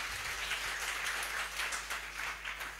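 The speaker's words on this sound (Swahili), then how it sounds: "Pigia Mungu wetu makofi." A church congregation applauds, a faint, steady wash of many hands clapping together for a few seconds.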